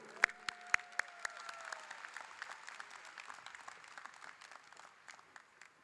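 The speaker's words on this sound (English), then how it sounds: "May I get a round of applause for our mayor, Mayor Judy Ward." Audience applause at a high school graduation ceremony for the town's mayor, a quiet crowd clapping steadily from a distance, with a few louder claps near the start.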